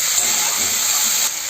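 Tomatoes dropped into half-fried onions in a pan for a Bengali rui posto fish dish, giving a loud, steady hissing sizzle that eases slightly toward the end.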